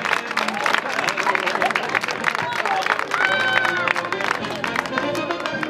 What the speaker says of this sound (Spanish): Un aplauso para estos campeones.